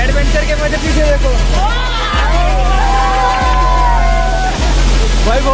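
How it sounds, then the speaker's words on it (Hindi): Rushing water from a waterfall in Uttarakhand near Dehradun, a loud constant roar of fast-flowing current with people talking over it and periodic low thumps. "ये बहाव कितना ज्यादा तेज है। और यहाँ देखो गाइस पूरा ऊपर झरना आ रहा है"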